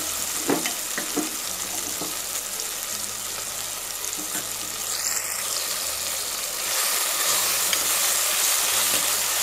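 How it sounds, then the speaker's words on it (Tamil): Prawns sauté with softened tomatoes in a pan for a prawn and drumstick curry, giving a steady, close hiss of frying that grows slightly louder toward the end, with a few faint stirring knocks. "இப்போ இந்த தக்காளி பழமும் சேர்ந்து நல்லா வந்து வதங்கிடுச்சு இப்போ நம்ம இறாலை வந்து இதோட சேர்த்துக்கலாம்"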